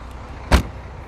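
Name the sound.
closing the boot of a Mercedes C43 AMG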